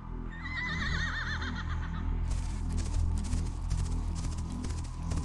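Roach, Geralt's horse in The Witcher 3: Wild Hunt, lets out a loud, wavering whinny, then steady hooves clop in a quick rhythm over a continuous low rumble.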